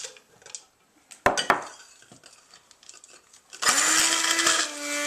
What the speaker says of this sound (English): Our stone pine kernels need to be coarsely ground, so we are going to use our hand blender to do that.